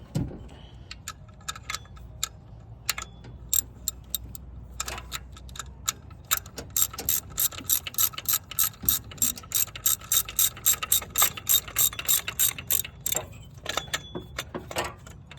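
Ratchet tightening a tensioner bolt on a Honda CR-V, clicking in short bursts that grow into fast, steady runs of close, crisp pawl clicks, with no talk.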